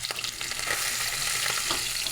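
Fish pieces fry in hot oil in a pan, a continuous close sizzle with spattering crackles and occasional soft knocks, without speech.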